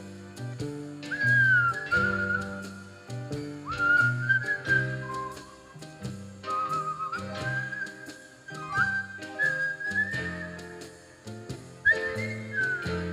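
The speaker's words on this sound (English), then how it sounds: "Everybody whistle." Whistled melody at a live performance by Jim Berner at LenoxCC, several whistlers carrying a sustained tune with slides between notes over steady low accompaniment.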